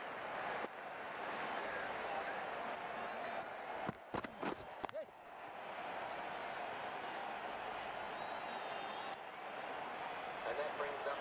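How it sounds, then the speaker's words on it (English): A crowd at an amateur NACO cricket match between Brooklyn Beats and Toronto 46ers keeps up a steady roar of cheering and clapping, with a brief choppy break of bursts midway. "It's going to be hard for the bowler to focus with the crowd this excited."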